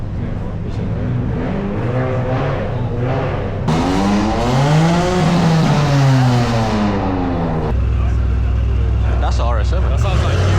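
An Audi RS7's engine revs hard at a big car meet, rising and falling in loud, swooping pitch sweeps with brief lulls of idling, while people talk nearby.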